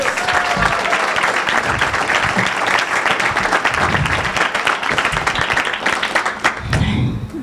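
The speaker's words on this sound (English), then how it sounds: "Can we give them a big round of applause to everyone?" A large audience breaks into loud, sustained applause and clapping for a team, dense and continuous throughout before tapering slightly at the end, with faint voices mixed in.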